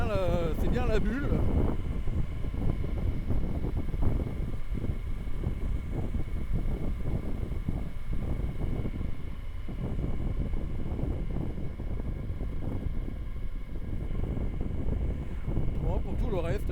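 Steady, blustery wind buffets the rider on a motorcycle fitted with a windscreen, a continuous loud rumble from start to end, with someone talking over it.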